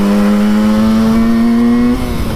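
A 1968 Yamaha YL1 Twinjet small two-stroke motorcycle runs under load with a loud, close, buzzing engine note whose pitch climbs slowly and steadily before easing off at the end.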